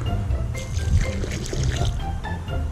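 Ordinary water poured into a freshly dug hole in the ground, a steady splashing gush running for a few seconds over low rumbling background noise.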